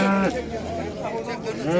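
Cattle and other livestock call at an outdoor animal market in Yıldızeli, Sivas, Turkey, with a couple of close, drawn-out lowing moos amid general bustle and background voices.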